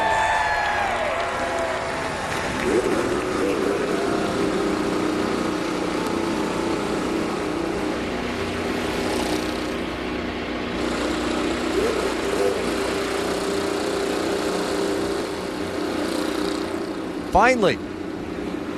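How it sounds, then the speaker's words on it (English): IndyCar race cars firing up on the St. Petersburg street circuit. Many engines crackle and idle together under a crowd and a public-address voice, and a sharp rev bursts out near the end. "Drivers, start your engine!"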